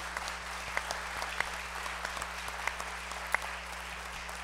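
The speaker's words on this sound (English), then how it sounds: "we just gave them applause, but one more time, let's appreciate our panel for their time" Steady applause from a church congregation for a panel, a dense wash of clapping with a few sharper individual claps standing out, heard at moderate distance over a low hum.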